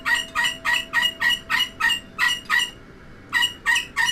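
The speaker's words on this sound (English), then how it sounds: "The bird's going ballistic, as you can hear her quite clearly." A pet bird named Coco squawks loudly and insistently, a regular train of about a dozen harsh, piercing calls in quick rhythm with a brief pause before the last few, close and alone.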